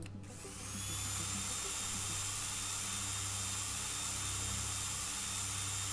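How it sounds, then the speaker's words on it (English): Steady mechanical drill boring in the horror video game Stories Untold, a loud continuous whine and rumble with sustained high tones that holds level for several seconds after a short start-up, with no talking over it. "that drill's going in like butter"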